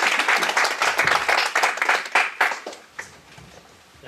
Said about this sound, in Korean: 박수로 보여주십시오.